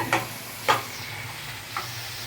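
Onions sauté in a pan for Kayalpattinam kalari curry, with a soft continuous sizzle under three sharp spatula scrapes and clinks against the pan, spaced apart.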